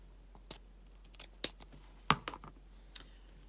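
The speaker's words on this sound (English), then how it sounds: "this tail is so long I can cut some off of here" Scissors snip off the long tail of a ribbon while a four-loop butterfly bow is being made; several sharp, close, isolated cuts come in quick succession against a quiet background.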